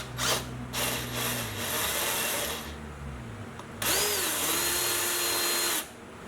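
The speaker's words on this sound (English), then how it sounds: "It's a 1/2 inch drill bit." A power drill with a half-inch bit whirs in several bursts, revving up and winding down, then runs in one long steady high-pitched spin before stopping abruptly.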